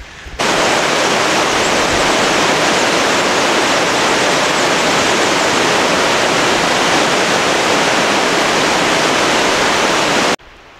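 Heavy, steady roar of a wide waterfall in the Rockies, loud and continuous without a break, close by, with no voices over it.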